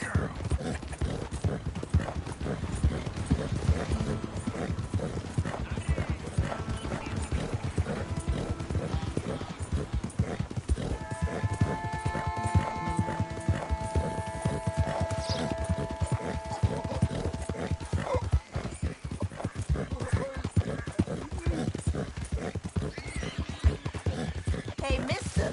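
Horse hooves clip-clop in a steady, fast rhythm while riding in Red Dead Redemption 2, with a whinny in the middle and character voices talking over the hoofbeats throughout.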